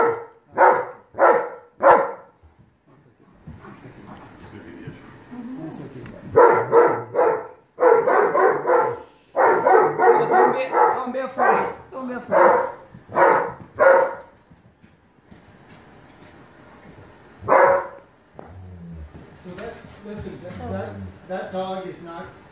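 A dog barks loudly and repeatedly at close range indoors, sharp bursts in clusters with gaps, while people talk over and between the barks.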